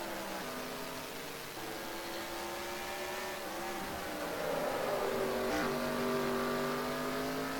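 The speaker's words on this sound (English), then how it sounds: "There we see Jim going by look like a lap car there" Race car at the Mosport circuit in winter, its engine a continuous loud drone with rising and falling harmonics as it passes and accelerates, heard alone over broad wind-like noise.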